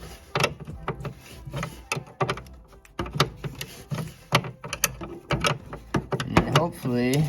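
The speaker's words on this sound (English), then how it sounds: "So as I tighten this nut, it draws the whole cable tight." A nut tightens on the reverse-lever cable of a Honda Pioneer 520 side-by-side, producing close, uneven metallic ratcheting clicks and scrapes in short bursts.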